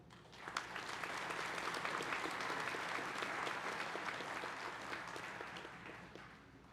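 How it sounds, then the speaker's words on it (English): Sustained audience applause at a graduation ceremony honoring county award winners, a dense, steady wash of clapping hands that holds evenly for several seconds before easing slightly toward the end, with no talk over it. "Let's have a round of applause for all of our county award winners."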